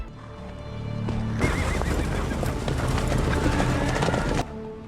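Horses neigh and whinny loudly amid steady clip-clopping hooves as a band of armed riders closes in, the sound swelling abruptly and then cutting off, with no talk over it.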